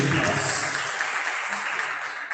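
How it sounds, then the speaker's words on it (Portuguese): A church congregation at a Portuguese-language Catholic Mass breaks into applause, a dense, steady wash of clapping that starts loud and tapers off slightly over a couple of seconds. "Aplaudamos a palavra de Deus."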